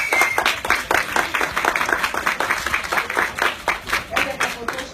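Applause for newlyweds right after a Hungarian civil wedding ceremony: a room full of guests clapping steadily and loudly, with a voice speaking over it.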